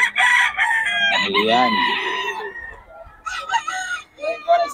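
A Boston sa Gilmore gamefowl rooster crowing on a farm, one loud close crow rising and falling, followed by shorter calls, with someone speaking briefly near the end.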